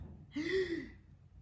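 A voice imitates the gasping breath of a distressed newborn, one sharp drawn-in gasp, close and clear against a quiet background.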